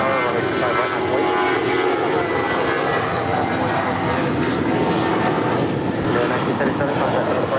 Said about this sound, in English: That is United 1977 departing to San Francisco. That is an A320.